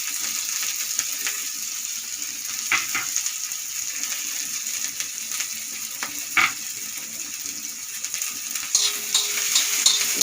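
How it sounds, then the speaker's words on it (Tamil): Onions and cashews fry in oil in a kadai, a soft steady sizzle broken by a few clinks of a stirring spoon against the pan, quiet and unaccompanied by speech. "வெங்காயம் நல்லா ஃப்ரை பண்ணிக்கலாம்."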